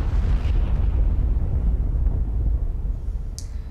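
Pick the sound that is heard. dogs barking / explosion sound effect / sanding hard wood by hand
explosion sound effect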